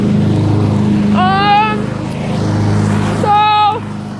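A leaf blower runs in a residential yard with a steady, loud engine drone throughout, while voices briefly rise over the noise.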